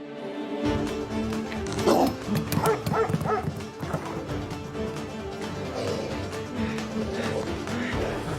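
A dog barks repeatedly in an animated cartoon, sharp yips and woofs scattered over a busy background with hoof-like clopping, fairly loud and close, with no talk.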